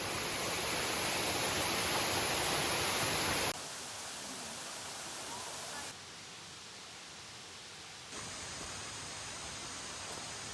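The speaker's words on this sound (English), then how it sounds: "Now we're here at the waterfalls." Broad, steady rush of waterfalls in Royal National Park near Sydney, a constant hiss that shifts in level between sections, with no talk.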